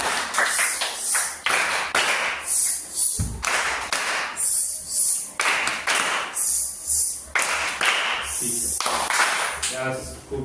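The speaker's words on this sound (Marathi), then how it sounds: "सरांचं पुन्हा एकदा आपल्या टाळी नंबर 1 न स्वागत करूया आपण" Schoolchildren in a classroom clap in rhythmic, patterned bursts to welcome their teacher, loud and close, with brief pauses between rounds of synchronized claps.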